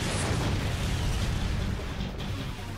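Cartoon fire attack effect, a dinosaur's pyro split move in a battle: a continuous loud roaring whoosh with no breaks, dense and sustained for about three seconds, alone without voices.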